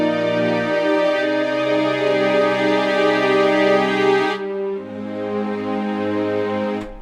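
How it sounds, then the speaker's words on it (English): Sustained chords from a free software plugin's string section, bowed ensemble tones held and shifting between a few harmonies, full and smooth with no voice. "These are the string section and string solo. Sounds like this."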